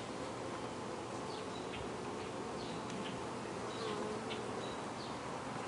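Honey bees hum and buzz steadily in an opened backyard hive during an inspection, a dense, continuous close drone with faint individual bees passing by and no talking.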